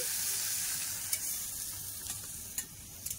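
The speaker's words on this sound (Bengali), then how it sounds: "পেঁয়াজগুলো দিয়ে দেবো, দিয়ে হালকা করে ভেজে নেব।" Onions frying lightly in a pan, a soft continuous sizzle and hiss with a few faint stirring clicks, close and fairly quiet, with no talking.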